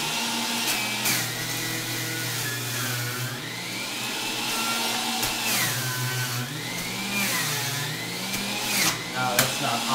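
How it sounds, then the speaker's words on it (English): A Breville juicer grinds through a whole head of celery with a steady, loud motor whine that rises and dips in pitch as stalks are forced in, while people talk over it. "you can stuff a whole head of celery into a juicer"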